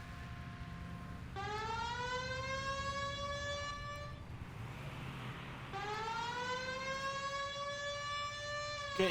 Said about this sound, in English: I have my sirens on